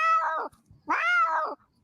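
A cat yowls in two long, drawn-out wailing calls, loud and close, separated by a short pause, with no talk around them.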